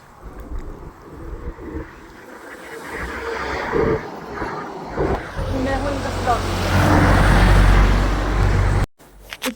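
Vehicles pass along a hill road on the way to Mall Road, a rising engine rumble and whoosh that swells loud toward the end, with someone talking and birds faintly audible.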